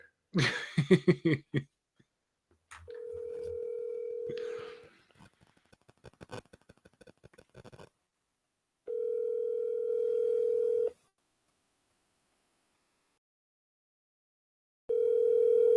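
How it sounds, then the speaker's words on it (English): Telephone dial tone heard while calling a friend: a steady ringback tone in two-second bursts separated by pauses, preceded by brief laughter and some clicking and handling noises. "I'm gonna phone a friend real quick."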